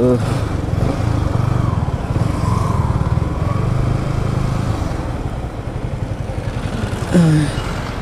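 A Yamaha R15 v3 motorcycle engine drones steadily and loudly throughout, with a brief rise near the end and a voice talking over it.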